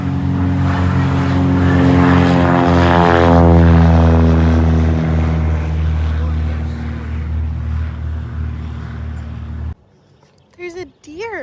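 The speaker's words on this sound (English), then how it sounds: "We're seeing airplanes." A propeller airplane passes overhead while a child rides in a stroller on an outdoor walk. Its loud droning engine builds, peaks, then fades over about ten seconds, followed by quiet with brief nearby voices.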